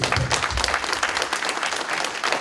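An audience applauds loudly for a president at a New Year's reception in New York, thick continuous clapping from many hands filling the room throughout.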